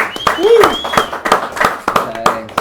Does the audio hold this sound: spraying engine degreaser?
no